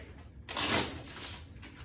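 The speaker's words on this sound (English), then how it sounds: "Standard shuffle, real quick." A standard shuffle of a deck of playing cards during a home blackjack game, heard as one brief rustling burst of card riffling partway through, then a quieter room.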